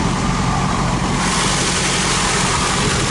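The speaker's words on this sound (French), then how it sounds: "Alors, moteur tournant" A tuned turbocharged car engine of around 300 horsepower runs at idle, a loud, steady, dense rumble held close throughout with no talking.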